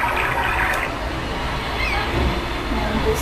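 A recorded brook sound plays from a small LCD rainbow projection clock, a steady hissing trickle of running water that stays even throughout, slightly thin and electronic in tone.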